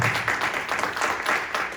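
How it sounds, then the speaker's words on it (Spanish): Church congregation applauding loudly together, a dense steady wash of clapping with rhythmic swells, continuous and close throughout. "Den un aplauso fuerte"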